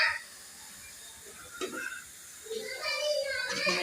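Garlic paste hisses and sizzles in half a cup of hot oil in a kadai for a dal tadka. The steady hiss is faint and close, with brief bursts of crackle and a little background voice.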